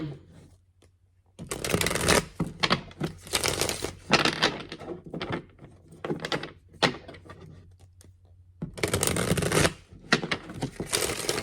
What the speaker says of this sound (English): I think there's a card in here that doesn't belong. I keep seeing it as I'm shuffling.